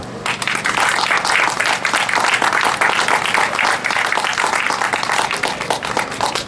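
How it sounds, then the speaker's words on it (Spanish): Dense, sustained applause from a crowd at a Falange campaign-closing political rally in Seseña, Spain, with even clapping throughout and no pause. "os pido un aplauso fuerte para Pablo."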